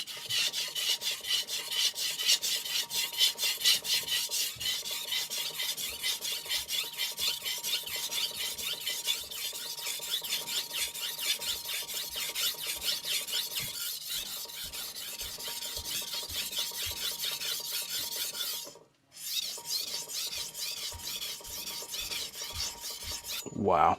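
A Victorinox Forschner hard stainless chef knife drawn over a King NEO 800 whetstone, making a continuous close rasping scrape in rapid repeated strokes, with one brief pause near the end.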